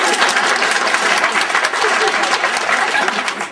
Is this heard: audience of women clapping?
yes